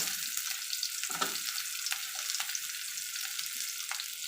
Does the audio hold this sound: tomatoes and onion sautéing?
yes